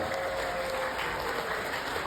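Wedding guests in a large wedding hall clapping together, a dense, continuous wash of applause at a steady level with no pauses.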